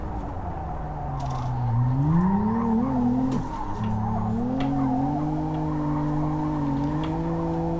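A car in the Live for Speed racing game is thrown into a handbrake drift, its engine droning and rising in pitch as tires squeal in a long sustained screech.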